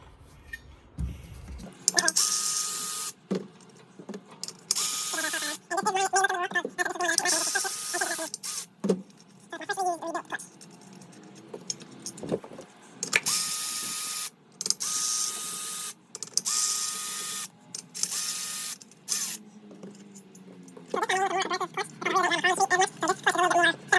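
Bolts on the cover of a rebuilt triple-disc race clutch are backed out in a star pattern, giving repeated short bursts of close mechanical whirring and clicking separated by brief pauses.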